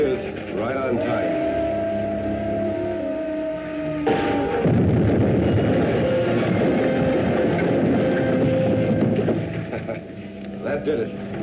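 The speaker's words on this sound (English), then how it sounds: "That troop train be along soon." A troop train rumbles past in an old film serial, a loud continuous rolling roar with clatter that swells midway and holds for several seconds before easing, with voices and music-like tones underneath.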